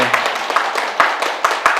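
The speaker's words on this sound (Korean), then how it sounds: "근데 박수는 왜 치는 거예요?" Audience clapping: a short run of crisp, evenly spaced hand claps, fairly close and loud, keeps a steady beat for about two seconds.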